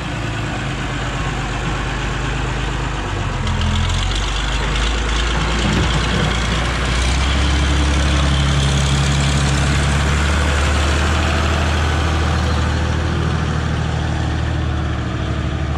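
A Renault tractor engine idles steadily, a loud, continuous low rumble with a slight shift in tone partway through and no voices over it.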